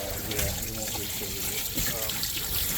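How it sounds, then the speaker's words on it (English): A hose pouring water into a portable washing machine holding towels and dog sweaters, a constant splashing rush of filling water, close and loud, with voices talking over it. "I'm just going to put the water in it with my hose."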